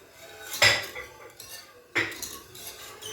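A saucepan is set down in a kitchen while chocolate is being made, two sharp metallic clanks of pot and utensils about a second apart, close and clear against quiet background.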